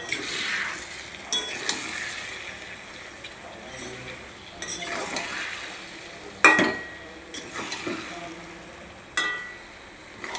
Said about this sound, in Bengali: এইভাবে সুন্দর করে নাড়াচাড়া করে মশলার সঙ্গে মাখিয়ে নেব সবজিগুলোকে